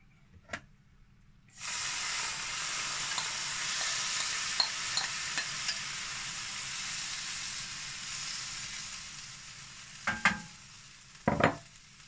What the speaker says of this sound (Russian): Обжариваем лучок